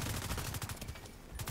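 Gunfire from a headshot in the online shooter video game The Division 2, a dense burst of rapid shots filling the clip with a brief gap near the end, heard alone without talk.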